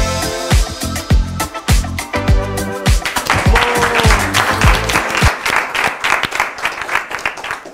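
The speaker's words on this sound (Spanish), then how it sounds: "un fuerte aplauso para Celia" A school audience applauds a presenter at a live show, clapping hard and unevenly with loud individual claps standing out in a lively, echoing room over several seconds, with music playing underneath.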